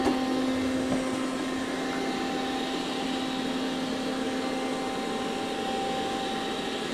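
A Roborock Qrevo robot vacuum cleaning a muddy floor gives off a steady, even motor whir with a faint tonal hum, unbroken and fairly close throughout, with no talking.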